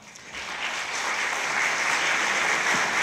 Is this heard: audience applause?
yes